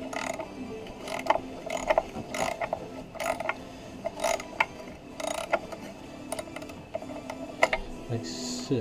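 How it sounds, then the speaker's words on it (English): Socket wrench ratchet loosening a nut at the bottom of a Subaru engine during timing belt and water pump work, giving repeated short metallic clicking bursts at an irregular pace, close by. "So slack off that nut at the bottom"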